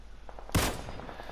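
A single sharp, loud suppressed rifle shot from the PUBG video game on the Erangel map stands out alone, decaying quickly over faint background game ambience.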